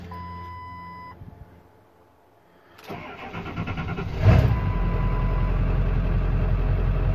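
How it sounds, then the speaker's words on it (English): A vehicle engine cranks and fires at about three seconds, surges briefly, then settles into a steady, loud idle; a quiet beeping tone sounds before the start. "I'll show you when we started it up, listen to the idle"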